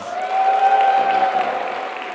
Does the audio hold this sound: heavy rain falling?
no